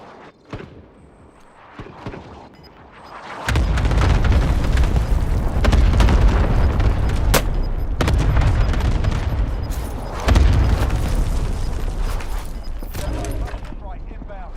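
Heavy airstrike explosions in a military video game roll in as deep booms and sustained rumbling, loud and close, with sharp blasts and crackling gunfire scattered through; faint radio-style voices come early before the barrage hits.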